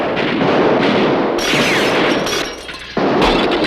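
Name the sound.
gunshots in a cartoon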